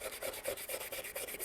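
Sandpaper rubs over rough paint on a Stormtrooper helmet in quick back-and-forth strokes, a close, rhythmic scratchy rasp about eight times in a row.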